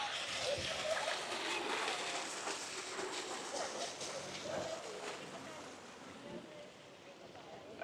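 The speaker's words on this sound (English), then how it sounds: "We've got a nice little water feature in the middle." A small water feature splashes steadily in the middle of Olsztyn's Old Town Square, a continuous outdoor hiss of falling water with faint crowd noise around it.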